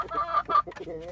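Backyard hens clucking in short, close bursts, a few quick rhythmic clucks in about a second, with some voice-like sound mixed in.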